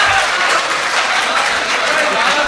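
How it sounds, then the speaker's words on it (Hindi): A crowd at an Urdu poetry recital breaks into loud, dense, sustained applause that stays steady throughout, with no single claps standing out and no voice heard above it. "जोरदार तालियों से इस्तकबाल किया जाए"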